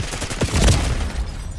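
Gunfire in the video game Call of Duty Black Ops 6, a short loud burst of booming shots lasting about a second, close and alone.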